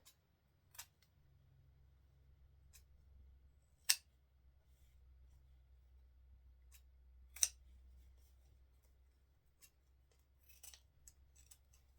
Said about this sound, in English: I gotta sharpen my scissors